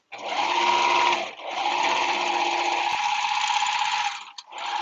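Serger sewing machine running in a home sewing studio, a steady loud whirring drone with a brief dip in speed and a short stop near the end before it starts again.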